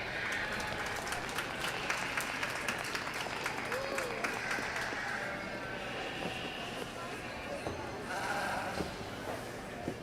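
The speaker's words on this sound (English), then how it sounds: "Let's give them a big round of applause." Spectators at a youth livestock show's hair sheep class applaud with steady, broad clapping that carries on for several seconds, with a few voices audible through it.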